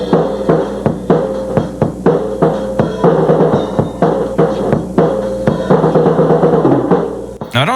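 Beginner drum kit playing from someone who began drumming in sixth grade, a steady run of sharp hits with a cymbal wash, loud and close, ending abruptly.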